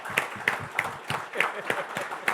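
Scattered clapping from an audience at a Georgetown politics event, led by a sitting senator, with individual claps audible in an uneven rhythm at moderate distance.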